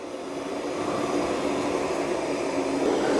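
An Ecovacs Deebot T20 Omni robot vacuum running on maximum suction gives off a steady, loud, broadband whooshing roar that holds even throughout, close by and with no talking.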